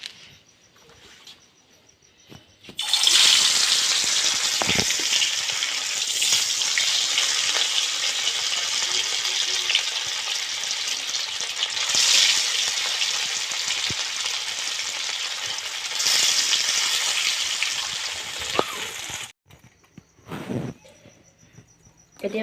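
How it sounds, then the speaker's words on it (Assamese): Fish frying in hot oil: a loud, close, continuous sizzle that crackles and swells for about sixteen seconds, bracketed by quieter moments at the start and end. "প্ৰথমে এতিয়া মই মাছখিনি ফ্ৰাই কৰি ল'ম"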